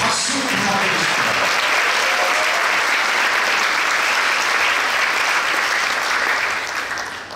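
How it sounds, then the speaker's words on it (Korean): Sustained applause from a large audience at a Mannatech corporate leadership camp celebration, loud and dense throughout, fading slightly at the end. "다시 한번 여러분 진심으로 이 자리에 오신 것에 대해서 큰 의미로 박수 부탁드리겠습니다"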